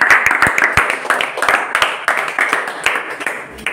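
A classroom of students applauding, with many quick, dense claps rolling on steadily at close range, and a voice faintly audible beneath.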